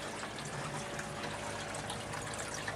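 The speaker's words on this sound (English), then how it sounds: "as you can see, their water flow is pretty decent" Fresh water pours steadily into a barrel holding fish in a backyard aquaponics setup with flood-and-drain grow beds, making a continuous close splashing gush with no break.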